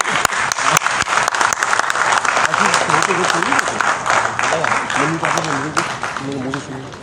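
Loud, sustained audience applause after a stage performance, a dense patter of many hands that tapers slightly toward the end, with voices heard over the clapping.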